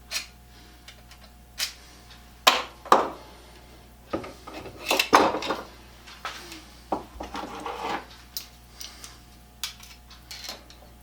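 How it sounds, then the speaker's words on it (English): Tin shears snip through a piece of high strength spring steel, producing a series of close, sharp metallic clicks and crunching cuts spaced irregularly across a quiet workshop. "you can cut it with a pair of tin shears"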